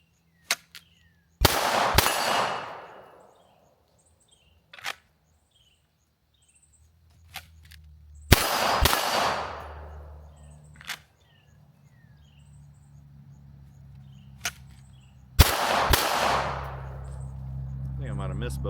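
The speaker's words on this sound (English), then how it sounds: "I'm just going to do some draw and fire on that 12-inch plate." Three loud pistol shots from a Canik Mete SFX fired at a 12-inch steel plate at an outdoor range, spaced several seconds apart, each a sharp crack with a ringing tail, with faint clicks and handling noise between them.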